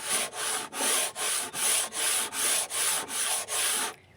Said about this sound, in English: Join me as we sand areas such as this